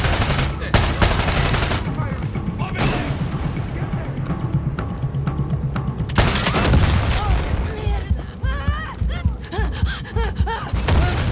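Tank cannon and heavy gunfire in the video game Far Cry 6, with loud booms and rapid bursts of shots repeating across a chaotic battle, a voice speaking briefly over the din.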